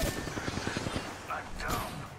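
Rapid bursts of gunfire in a squad-based video game firefight, a quick run of close automatic shots followed by a few scattered sharper cracks over a busy game background.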